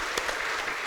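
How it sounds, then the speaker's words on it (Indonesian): A university campus crowd at a political talk gives a brief burst of dense applause, heard at a moderate distance. "Ayo kita tepuk tangan ya."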